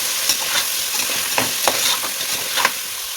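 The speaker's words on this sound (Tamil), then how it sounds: "நல்லா மிக்ஸ் பண்ணி விட்டுருவோம்." Beef bones are stirred in a hot frying pan, giving a continuous sizzle broken by regular scraping strokes of the spoon, close and fairly loud.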